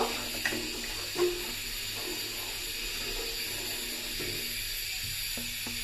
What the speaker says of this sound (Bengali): তো এই পানিটাই আমি দিয়ে দিলাম